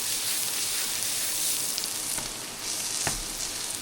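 Sourdough slices buttered with garlic sizzle steadily on a Blackstone griddle outdoors in the Oregon wilderness, a close, continuous frying hiss with a couple of faint clicks and no talk.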